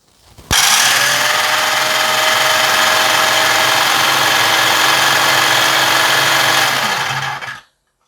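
An IMAX electric drill bit sharpener whirs loudly and steadily with a grinding hiss for about seven seconds as a drill bit is sharpened, starting abruptly and winding down at the end.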